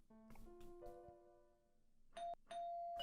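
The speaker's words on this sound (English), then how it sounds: "I press on the doorbell multiple times." Video-game doorbell rung repeatedly, several electronic chimes in quick succession, each a clear tonal ding ringing out briefly, the last presses louder and held longer, with no speech.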